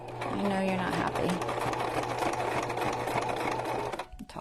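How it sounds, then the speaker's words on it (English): A sewing machine stitching through paper and batting for a journal cover runs steadily and close up for about four seconds, a continuous mechanical whir with a low hum, then stops abruptly near the end. "I'm talking to my poor sewing machine."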